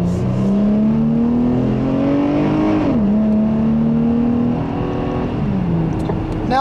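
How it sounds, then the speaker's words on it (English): A 2013 Dodge Challenger with a 305 hp V6 accelerates on a road drive, its engine note climbing through gears in rising sweeps with shift dips, loud and close from inside. "The 305 horsepower that this V6 puts out, it moves the Challenger out quite well."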